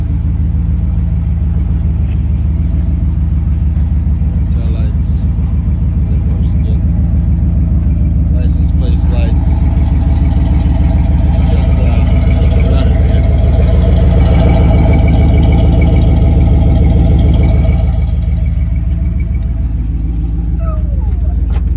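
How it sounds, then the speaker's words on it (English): A Dodge A108 van's engine idles with a steady, low rumble throughout, with someone talking over it and a slight rise in revs midway. "Nice smooth running engine, sounds great, great oil pressure, everything."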